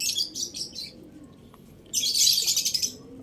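Several pet birds chirping and twittering nearby in bursts, a short group of calls, a pause, then a louder, denser flurry of chirps.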